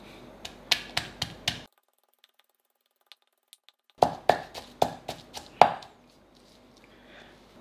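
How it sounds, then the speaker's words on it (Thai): A pestle pounds peppercorns and garlic in a mortar for a spicy jaew dip. Two close, loud bursts of about five quick thuds each are split by a pause of near silence. "พอโขลกพริกไทยละเอียดได้ที่แล้วก็กระเทียมครับโขลกให้ละเอียดเหมือนกันเลยครับ"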